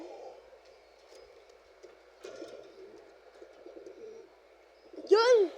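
Domestic pigeons, including a white one, coo in a loft: a low murmuring coo runs softly through, with a louder, close cooing burst near the end.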